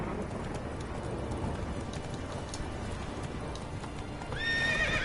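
A horse gallops in The Witcher 3 with rapid, continuous hoofbeats under a steady rush of ambient noise, then gives a loud, close whinny near the end.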